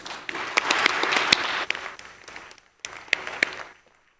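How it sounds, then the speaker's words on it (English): An audience at the Africa Investment Forum applauds a panel with close, sharp individual claps over a steady patter. It dips briefly midway, surges again, then trails off to quiet. "A big round of applause then for our panel."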